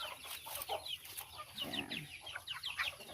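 Chickens and young chicks close by, rapid high peeps and soft clucks overlapping continuously at a moderate level, no talk.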